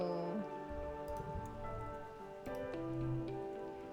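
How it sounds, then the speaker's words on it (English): Steady rain patters over a sustained musical score in the video game I Was a Teenage Exocolonist, with the rainfall kept soft beneath the layered tones. "It's pouring rain"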